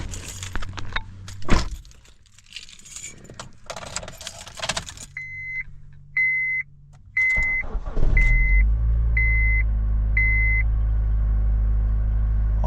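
Jump starter set up and switched on with keys jingling, a car chime beeping repeatedly, then a 1.8 liter turbo car engine cranks and catches into a steady, close idle.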